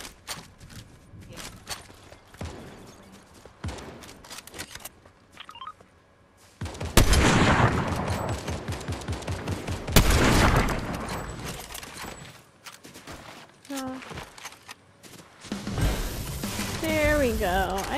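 Sniper gunfire in a multiplayer video game, heard as scattered sharp shots and loud broadband bursts mixed with game effects and excited voices talking over them.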